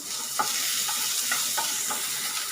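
Coconut and tamarind are sautéed in a pan for chutney. Repeated light scrapes of stirring come about twice a second over a steady, bright sizzle, close and fairly loud, with no speech.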